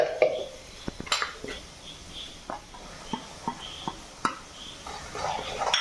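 Chilli powder and a little turmeric powder are stirred in a pan with a spoon, giving a run of scattered scrapes and clinks of metal on the pan over a faint sizzle.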